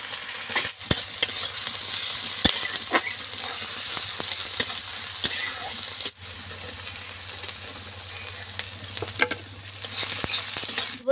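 Chopped onion, green chilli and garlic frying in oil, a continuous close crackling sizzle broken by sharp spoon clicks and scrapes against the pan, steady throughout with no voices.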